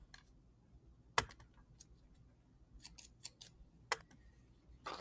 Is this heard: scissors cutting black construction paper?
yes